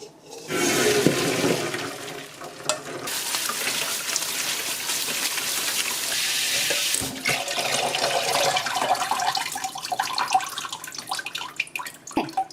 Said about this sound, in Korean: 면이 이제 다 삶겼는데요. 찬물에 헹궈 오겠습니다.